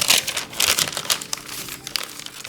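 Thin, tissue-like dried flower petals, such as a Daydream variety, crinkle and rustle close up in a series of soft, crackly bursts, with no talking.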